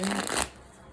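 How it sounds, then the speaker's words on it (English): A brisk riffle of tarot cards being shuffled, a short papery burst that stops abruptly into near quiet. "I'm going to go ahead and start shuffling here."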